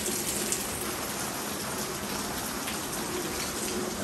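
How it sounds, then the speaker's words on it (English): Steady rain falls in an afternoon downpour as a continuous, dense hiss with no pauses, fairly loud and even throughout, with no talking. "Wow, rain goes right here."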